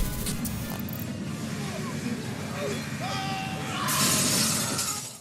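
Glass shattering inside a submarine during a movie scene, a bright crashing burst of breaking glass near the end, layered over rumbling underwater ambience and muffled background voices.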